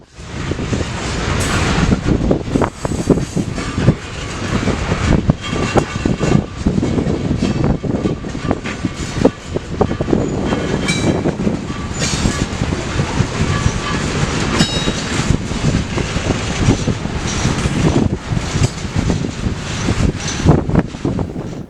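A long freight train made up largely of boxcars rolls past at Galesburg, Illinois, a steady loud rumble with rhythmic clickety-clack of wheels over rail joints and some wind buffeting the microphone throughout.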